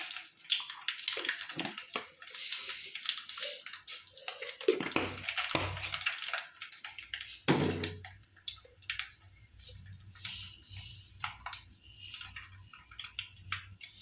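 Mustard seeds sputter and crackle in hot oil for mango pickle as a busy, uneven stream of tiny pops and sizzling, fairly close, with no talking.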